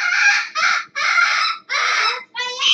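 A parrot screams in loud, harsh squawks, five close bursts in a row with short gaps between them, near and clear.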